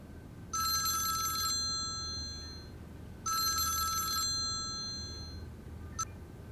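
A telephone rings in two long, loud electronic trills with a pause between them, then a brief final chirp as the call is picked up, in a Pakistani TV drama scene with no talking.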